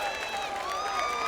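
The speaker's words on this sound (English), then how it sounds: "Look at that crowd. That's the Luminosity cheering section right there." Crowd of Luminosity fans cheering at a CS:GO MLG Columbus grand final: a continuous roar of voices and applause with whistles and sustained shouts, steady and loud throughout.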